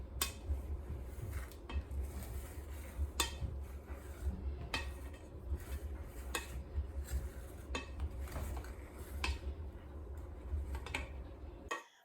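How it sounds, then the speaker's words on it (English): Cooked brown rice being stirred in the removable pot of a rice cooker, giving repeated scraping clinks of a utensil against the metal pot over a steady low background, with no talk. "Now the rice is done cooking, so I'm going to open it up and remove the pot from the cooker, and I'm going to stir it thoroughly"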